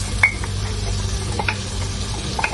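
Yogurt stirred into softened green chillies in a pan, a soft continuous sizzle under light scraping and a few small metallic clinks of a spoon against the pan.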